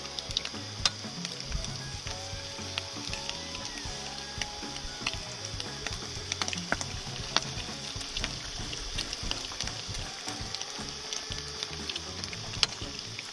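Eggs sizzle and fry steadily in a pan on an induction cooker powered by a Kings 1500 W inverter, a close, continuous crackle with small pops and no talking.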